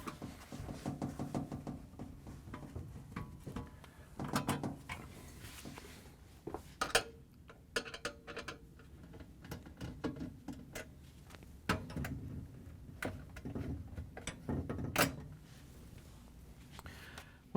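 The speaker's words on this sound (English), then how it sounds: "we can reach in with the Phillips screwdriver and take out the two screws that hold this assembly in" Phillips screwdriver backing out two assembly screws inside a GE refrigerator freezer's ice dispenser housing, giving faint scattered clicks, scrapes and small metallic knocks at close range with no talking.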